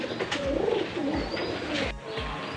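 Sirazi pigeons coo in a low, repeated rhythm, several soft throaty calls rolling one after another at close range with no talk over them.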